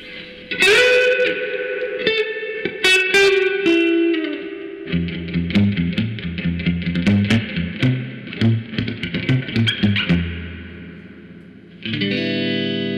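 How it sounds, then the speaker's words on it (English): A guitar played through an amplifier with its per-channel reverb knob turned way up, Fender Twin Reverb style. Picked notes and chords ring out with a long, washy tail, loud and close, with no talking. "Crank the reverb."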